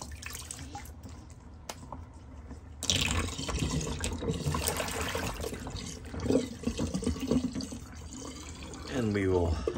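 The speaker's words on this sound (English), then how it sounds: "let's empty good old Sigmund the Sea Monster sink" Water gurgles and rushes as a bathroom sink drains after shaving, starting after a few quiet seconds of soft drips, with a voice speaking briefly near the end.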